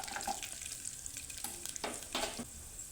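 Chana dal frying in oil in a pan for plain pulao, a steady close sizzle with a few louder stirring scrapes and bursts, no talking.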